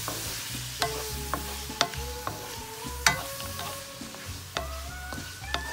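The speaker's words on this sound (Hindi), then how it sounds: "अब मैं इसमें डालूंगी मटर, थोड़े से बीन्स है, थोड़े कैरेट्स और कैबेज है, सब मिक्स है।" Mixed vegetables (peas, beans, carrots and cabbage) sauté in a pan with soft sizzling under repeated sharp scraping and clanking strokes of a spoon, close by and with no talking.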